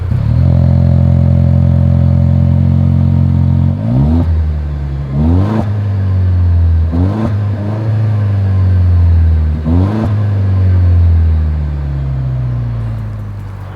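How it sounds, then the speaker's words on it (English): A 2024 Toyota Land Cruiser's exhaust rumbling loudly up close, a steady idle broken by four sharp revs that rise quickly and fall back, with no talking. "here is that exhaust clip"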